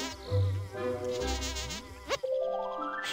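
A taffly insect in the Viva Piñata garden game gives off a continuous buzzing hum lasting about two seconds, followed by a rising synthetic sweep and other game effects, all fairly close and loud.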